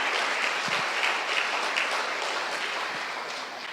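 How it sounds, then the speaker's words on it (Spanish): A church congregation at a Sunday service claps loudly together in a dense, steady burst of applause that fades slightly toward the end, with no voices rising above it. "dale un fuerte aplauso a Dios."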